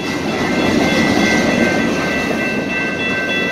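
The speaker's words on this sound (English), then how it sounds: "that's an Oceanside freight train at night" An Oceanside freight train rolls past at night, a loud continuous rumble with steady rail clatter and a faint high squeal running under it throughout.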